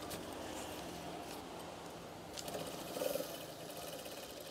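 A sewing machine stitches curtain fabric with a steady, quiet mechanical whir that runs continuously and gets slightly louder near the end, with no talk over it.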